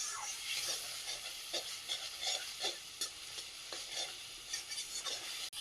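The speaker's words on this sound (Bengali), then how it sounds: "ভালো করে মশলাটাকে কষিয়ে নেব।" Ginger, garlic and poppy seed masala paste fries in a pan with a quiet, hissing sizzle, punctuated by repeated scraping stirs at an irregular rhythm. No one talks.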